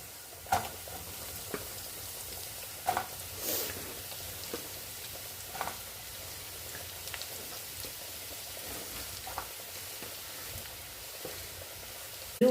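Sliced onions frying in a pan, giving a soft, steady sizzle through the whole stretch with a few faint clicks and taps of a spoon, quiet and with no talking.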